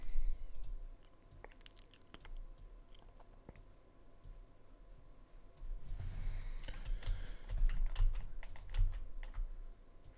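Keyboard keys tap in scattered bursts with occasional mouse clicks while someone works in 3D modelling software, close and fairly quiet with no voices.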